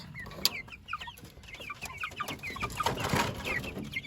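Several chickens cluck and chatter close by in a busy, overlapping flurry of short calls, with light rustling underneath.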